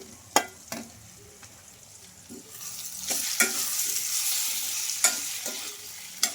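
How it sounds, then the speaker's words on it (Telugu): Boiled potato pieces sizzle in a tempering of oil and spices, with scraping stirs and a few sharp utensil taps over a steady close frying hiss. "మనం ఒక నిమిషం పాటు వేయించుకోవాలి ఆలు వేసుకున్న తర్వాత"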